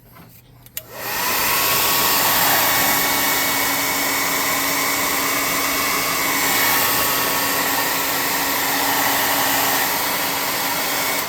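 A heat tool blows steadily to dry paint on a handmade craft tree for a tabletop role-playing game, switching on with a click and then holding a loud, continuous whirring rush close by.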